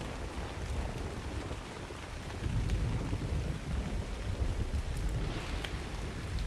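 A thunderstorm in the video game Ragnarok: steady heavy rain hisses while deep thunder rumbles and swells underneath, with no speech.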